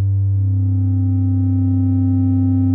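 Bass Station 2 synthesizer with two sine-wave oscillators tuned five semitones apart, holding a steady, smooth low two-pitch tone that sounds alone and unchanging.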